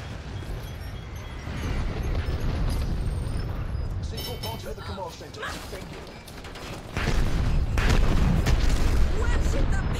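Explosion destroying a turret in the shooter game Dirty Bomb: dense, roaring game noise with mechanical clatter, a rising burst near the end, and a voice talking over it throughout.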